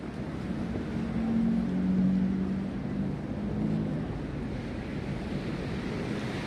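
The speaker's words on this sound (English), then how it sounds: "if you stand here, right, all you can hear is water" Rushing water pours steadily at a waterside spot in New York City on a freezing night, a broad continuous wash with faint wind buffeting and a low tonal hum swelling briefly early on.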